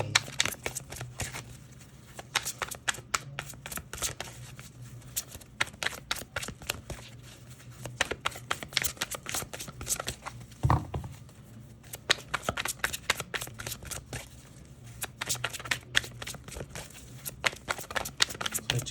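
A deck of tarot cards is shuffled continuously, a close, crisp run of rapid riffling and flicking with repeated quick card snaps throughout, fairly quiet and steady.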